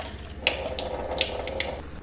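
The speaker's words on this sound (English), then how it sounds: "So here's our filtered water. We fill it up." Filtered water from a SimPure tankless reverse-osmosis system with alkaline and UV stages runs into a glass, a steady close trickle with a few brief splashy accents as it fills.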